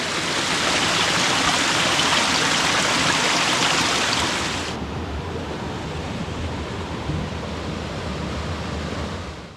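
A waterfall pours down into a steep snowy creek, a dense, continuous rush of water that sounds loud and close at first and then drops to a softer, steady wash that keeps going.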